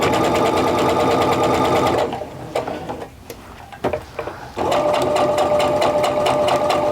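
A sewing machine stitches a quilt seam in two steady, fast-rhythm runs, broken by a short pause with light handling noises in the middle.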